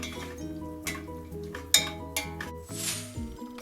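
Vegetables for Filipino papaya salad (atchara) being cooked in a pan, with metal utensil clinks and scraping against the pan over a low, steady background tone; no talk.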